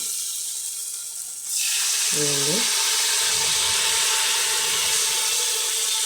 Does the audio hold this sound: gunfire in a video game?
no